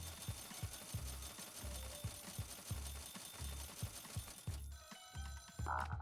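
Telephone ringing in the video game Scritchy Scratchy, a repeating electronic ring in steady pulses, followed near the end by brief bright game sounds.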